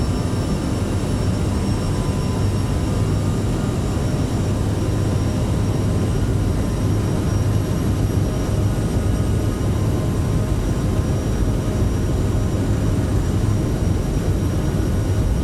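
Twin jet engines of a CRJ airliner in a flight simulator roar steadily at takeoff thrust, a loud, unbroken rumble with a high whine running throughout, with no voices.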